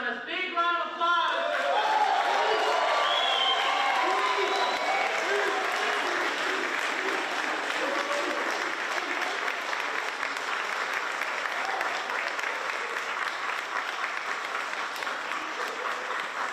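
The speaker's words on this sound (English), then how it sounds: "Big round of applause." A large crowd at a Shohei Day celebration in Los Angeles gives a sustained, even round of applause that welcomes Father Boyle to the stage, with dense clapping and a little cheering throughout.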